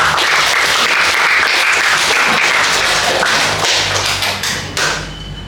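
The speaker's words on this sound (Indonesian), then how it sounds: "Ya, kita berikan tepuk tangan buat kita." A classroom full of students applauds together, a dense, loud wash of many hands clapping that holds steady and then begins to thin out toward the end.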